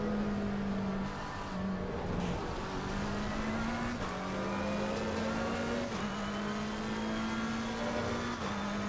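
Race car engine droning steadily through a flying lap in Assetto Corsa Competizione, a sustained loud tone with slight pitch rises and dips as it shifts, continuous for the whole stretch with no talking.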